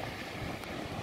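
Steady wind gusting across the beach at San Agustín near Maspalomas, Gran Canaria, a broad continuous rush with a faint microphone buffeting and no talk.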